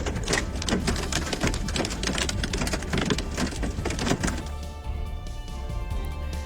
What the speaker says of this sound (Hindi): अचानक से बारिश के साथ बड़े बड़े ओले जमीन पर गिरने लगे